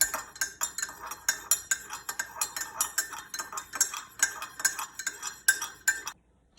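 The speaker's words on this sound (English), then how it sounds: "Stir it up. Make sure you get that honey and that lemon juice blended in." A spoon clinks rhythmically against a cup while stirring honey and lemon juice into tea, about twenty quick, evenly spaced metallic taps close up, stopping abruptly at the end.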